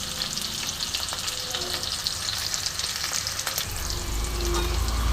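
A fish head fries in its own fish oil, sizzling and crackling steadily with occasional stirring scrapes, then a deeper low rumble swells in the last second.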